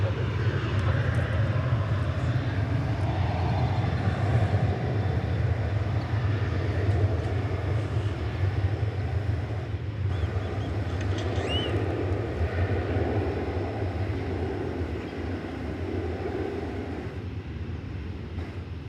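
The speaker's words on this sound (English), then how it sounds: "There you see American Flight 1523. It's going to Denver" Nearby, an American Airlines Boeing 737-800 departs DFW at dawn with a strong, sustained jet engine rumble and roar that eases slightly toward the end, with no voices over it.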